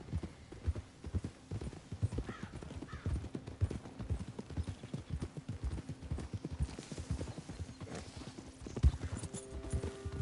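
Steady hoof clip-clops from a walking horse in Red Dead Redemption II, rhythmic and fairly close, with a brief whinny and some faint background hum.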